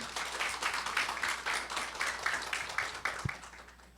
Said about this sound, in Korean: 에너아이디어 김희집 대표님을 힘찬 박수로 맞아주시길 바랍니다